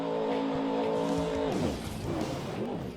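A monster truck in Rigs of Rods revs and swings into a donut, a steady high engine drone that drops in pitch into squealing, skidding tires and rougher rumble, loud and close.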